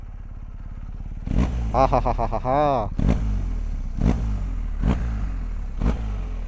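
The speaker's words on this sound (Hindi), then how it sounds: "and the bike symphony boxer engine" An adventure motorcycle's boxer engine idles with a steady low pulse, then revs up in a loud surge and drops back, followed by several sharp blips of the throttle over a continuous engine hum in light rain.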